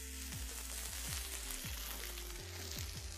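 Caul fat sizzles and fries steadily in a hot pan, a close, continuous crackling hiss with low clunks of the pan underneath and no talking.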